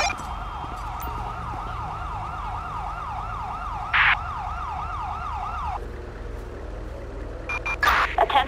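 An ambulance siren from GTA 5 wails in a steady, sweeping loop at moderate distance, then cuts out. Brief bursts of other game sounds follow near the end.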